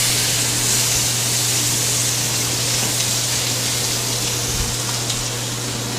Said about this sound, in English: So when the pan is nice and hot, that's when we're going to add just a single layer of corn.